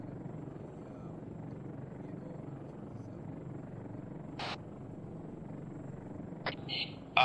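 A helicopter in the ARMA 3 military game drones as a low, steady rotor rumble throughout, with brief radio chatter bursts and clicks cutting in near the end.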